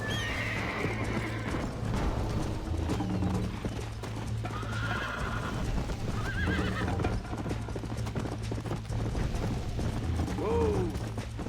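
Horse hooves clip-clop steadily throughout a Red Dead Redemption ride, with a whinny near the end and a low engine-like drone underneath; a voice talks briefly over the game sounds.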